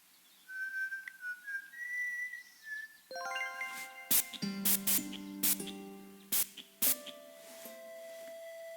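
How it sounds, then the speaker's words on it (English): Short spray bursts hit sandalwood shavings in the Broken Sword 5 video game, a few bright hissing puffs among chiming tones and a whistled melody. "I sprayed the shavings with Brett."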